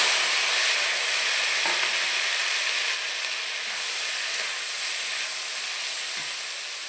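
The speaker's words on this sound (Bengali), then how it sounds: "আমার কড়াইতে যে তেল, মাছ ভাজা তেল ছিল, সেই তেলের ভিতরে আমি কেটে রাখা কাঁচকলাগুলো ভেজে নেব।" Green banana slices sizzle and hiss steadily in leftover fish-frying oil in a kadai, a loud, continuous bright frying crackle with no voices.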